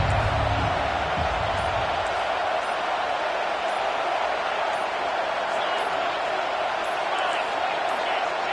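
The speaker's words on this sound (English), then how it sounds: "with this place rocking, the crowd forces a false start" A loud, steady roar from a packed stadium crowd at an American football game rumbles continuously, dense and unbroken, with no clear individual voices standing out.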